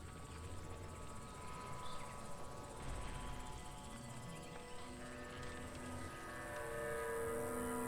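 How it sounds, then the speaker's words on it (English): An aircraft flies overhead in the survival game Stranded: Alien Dawn, a steady broad engine drone that builds slightly louder toward the end, heard alone. "Sounds like a plane flying overhead."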